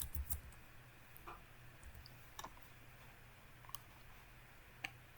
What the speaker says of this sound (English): I'm going to click this.